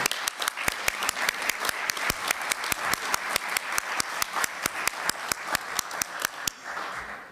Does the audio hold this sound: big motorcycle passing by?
no